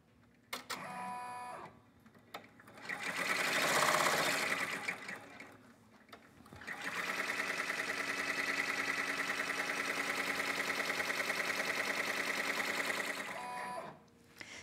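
An embroidery machine cuts an applique design held in a hoop, with a steady mechanical whirr and rapid rhythmic clatter running for several seconds after shorter bursts of motor activity, close and moderately loud with no talking.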